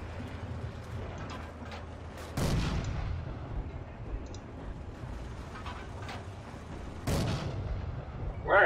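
Gunfire in the WWII shooter Forgotten Hope, with two distant booming shots about five seconds apart over a steady low background rumble of mechanical noise.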